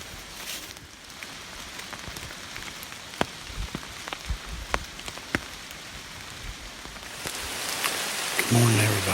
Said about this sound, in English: And it's a drizzly day.